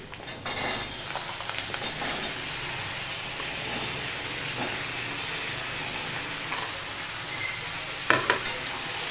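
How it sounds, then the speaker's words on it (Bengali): Chunks of potato, pumpkin, pointed gourd and eggplant are stirred in a hot, oily pan. A steady scraping and sizzling runs throughout, with a sharper clank of the spoon near the end. "সম্পূর্ণটা আমি মিশিয়ে নিচ্ছি"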